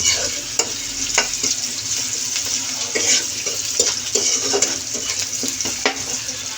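Bottle gourd leaves (lau shak) frying in a pan, a steady close sizzle broken by repeated scraping stirs of a spatula, with no talking.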